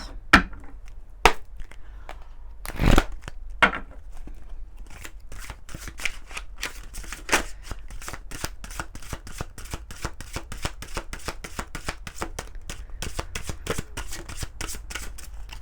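A fairy tarot card deck being shuffled by hand close up, heard as a few sharp slaps followed by a long run of rapid, rhythmic card flicks.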